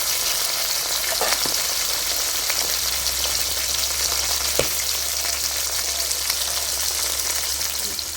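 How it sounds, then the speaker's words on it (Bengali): Fish fries in hot oil with a loud, continuous sizzle and crackle, with a few sharper pops now and then and no talking. "মাছগুলো ভাজা হয়ে গেছে, এবার নামিয়ে নিচ্ছি।"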